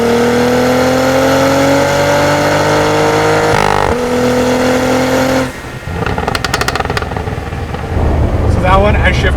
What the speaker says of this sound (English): we can hear more of that sound that happens in between when you're doing the no lift shift